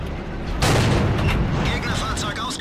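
A tank's main gun fires in World of Tanks, a sudden loud boom followed by a rumbling, crackling tail of battle noise that lingers close and heavy to the end.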